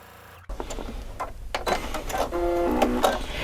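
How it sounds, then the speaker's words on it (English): A sewing machine stitching a quilt piece: a click of the presser mechanism, then a close, steady whirring stitch run that grows louder and busier, with a bright mechanical whine near the end. "So let's sew this one piece on and I'll show you how that looks."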